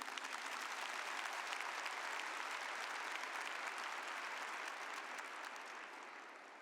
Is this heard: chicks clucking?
no